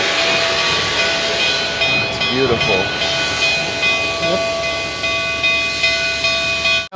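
A 1923 Alco-built K-28 steam locomotive sits hissing steadily with a constant high whine of escaping steam while people speak briefly nearby.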